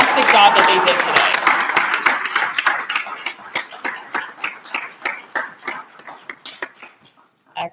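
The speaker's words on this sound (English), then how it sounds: "Can we give another big round of applause to all 10 teams and" Applause from the audience for ten competing teams at a clean energy prize summit starts as a full burst, then thins into scattered separate claps that fade out, with one last isolated clap at the end.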